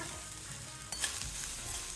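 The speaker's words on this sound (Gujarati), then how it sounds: "લીમડો, હિંગ બધાનો વઘાર આપણે કરી નાખ્યો જોરદાર" Curry leaves, asafoetida, green chillies and garlic sizzle in hot oil as a tempering for peanut kadhi, a steady close crackling hiss with a brief louder burst partway through and no voices.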